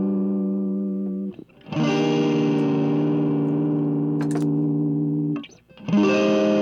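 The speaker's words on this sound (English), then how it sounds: "Our dirty guitar sounds like this." A dirty, distorted electric guitar rings out dry, with no effects, in sustained chords that fade into a brief dip before a new chord is struck, loud and close.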